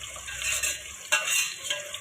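Onions frying with browned cumin in a pan for chicken roast pulao, a steady broadband sizzle with brief stirring scrapes and clinks, close and moderately loud with no talking.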